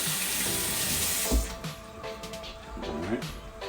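Water gushes from a kitchen tap while fresh thyme sprigs are rinsed for Jamaican stew peas. The flow is loud and steady at first, then gives way to quieter splashing and trickling.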